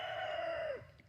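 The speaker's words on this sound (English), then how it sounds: "This rooster is apparently agitated about something." An agitated rooster crows once in a garden yard, a single drawn-out call that holds steady then drops off sharply at the end, fairly close and clear with no talk over it.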